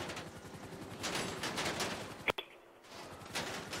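Rapid bursts of gunfire from a tank battle in the video game GTA V, dense and rattling, with one sharp loud crack near the middle, then a brief quiet gap before the firing resumes.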